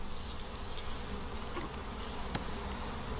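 Honey bees buzz steadily around hive frames of honey and pollen during a beekeeping inspection, a continuous close insect drone with a brief sharper tick near the end.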